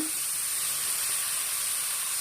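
Chopped onion drops into hot oil with popped mustard seeds, giving a steady, bright sizzling hiss that holds loud and even throughout.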